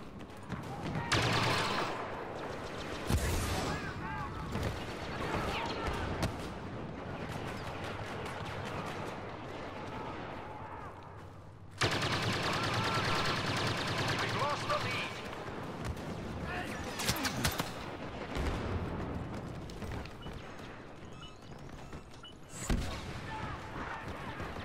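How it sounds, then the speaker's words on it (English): Blaster cannon fire in a Star Wars video game, loud repeated shots and rapid volleys running almost continuously with brief lulls, with a voice talking over the action. "Got my little blaster cannon."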